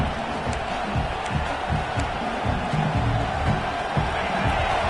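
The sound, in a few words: football stadium crowd cheering for defense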